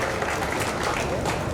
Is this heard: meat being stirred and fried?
no